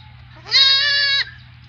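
A Barbari goat gives a single loud, clear bleat lasting under a second, close to the listener, with a faint steady hum behind it.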